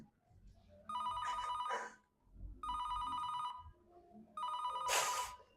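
A telephone rings during an unanswered call, three bursts of bright electronic ringing separated by pauses, with muffled voices talking faintly between and over the rings.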